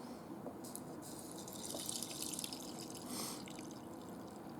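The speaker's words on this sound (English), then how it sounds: "then you pour water" Water poured into a miso soup bowl holding dried wakame, a soft trickling and splashing stream that swells and fades over a few seconds, faint and close with no talking.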